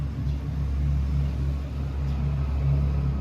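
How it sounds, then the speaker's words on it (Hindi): Audi e-tron GT electric car emits its artificial pedestrian warning sound, a steady low humming drone with faint pulsing tones, heard continuously and fairly quiet with no talking. "ये ऑडी ने स्पेशल पेडेस्ट्रियंस के लिए रखा है ताकि जी जब गाड़ी उनके पीछे आए तो उनको पता चले कि हाँ भाई वाकई गाड़ी आ रही पीछे।"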